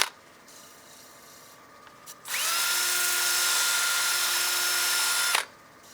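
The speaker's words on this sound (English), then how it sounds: "Go and sand the rim." A power sanding disc grinds against the rim of a turned wooden bowl in one steady, close, loud pass of about three seconds, then cuts off abruptly. Faint workshop hiss fills the moments before and after.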